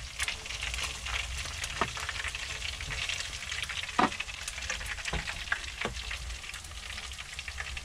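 Smyrna-style soutzoukakia meatballs fry in a pan, giving a steady close sizzle broken by a few scraping clinks as they are lifted out one by one.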